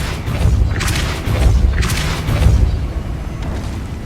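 A Depulso spell is cast in Hogwarts Legacy, heard as a few heavy whooshing booms with bursts of bright noise over a rumbling game soundscape, loud and close.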